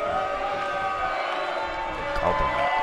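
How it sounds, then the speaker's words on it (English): A wrestling crowd murmurs and shifts restlessly at the start of a match, a steady dense roar of many voices filling the space with no single sound standing out. "the crowd getting restless as this one kicks off"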